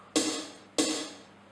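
Two sharp electronic drum hits from a Roland R8 drum machine, evenly spaced, each a bright punchy strike with a short decaying tail, played alone with no talk.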